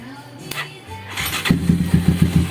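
A Bajaj Rouser 180 motorcycle that will not start has its electric starter cranking in a close, rapid pulsing whir, with a short burst of starter noise before it.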